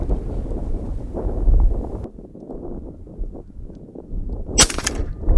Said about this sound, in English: It's always that second shot.